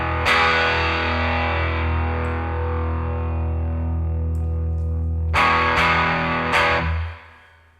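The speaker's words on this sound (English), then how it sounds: "let's say turn back on the overdrive" A heavily distorted electric guitar chord through a NUX MG-30 overdrive rings out and sustains, then three more sharp overdriven strums near the end before it cuts off.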